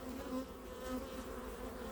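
Honeybees buzz steadily at an open hive, a faint continuous drone with a low hum and no talking.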